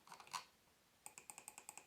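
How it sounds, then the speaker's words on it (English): Faint, rapid run of small ticking clicks from a Logitech G305 wireless gaming mouse scroll wheel, evenly spaced like a notched wheel turning, after a few softer clicks. "mouse scroll"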